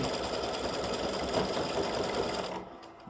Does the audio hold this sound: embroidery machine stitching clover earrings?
yes